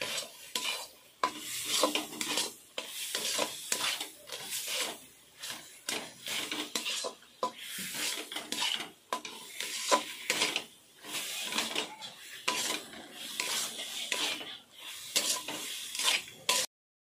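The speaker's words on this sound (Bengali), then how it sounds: "নাড়াচাড়া করতে হবে যতক্ষণ না মিষ্টির পাগ আসছে।" A spoon or spatula stirs a thick date sweet mixture in a pan, scraping and sizzling in steady repeated strokes at close range, with no voices.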